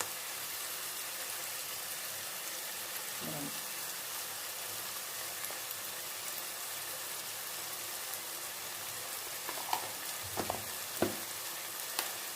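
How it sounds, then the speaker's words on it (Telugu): Ginger garlic paste frying in a pan with chicken and onions for a chicken and chana dal curry, giving a steady soft sizzle throughout with a few sharper stirring clinks near the end. "ఇప్పుడు ఇందులో అల్లం చిన్నులపాయ పేస్ట్ వేసేసుకుందాం."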